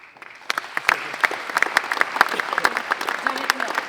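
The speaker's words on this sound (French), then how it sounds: "On peut les applaudir." Applause from an audience at the inauguration of a large events hall in Quimper, a steady patter of many hands clapping close by that builds and holds with a few louder claps standing out.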